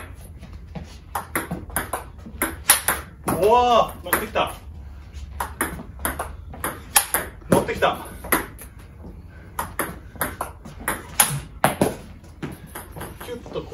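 A table tennis rally played with Omega VII China rubber, with a steady run of sharp clicks and pings as the ball is struck and bounces on the table. People talk throughout, under the hits.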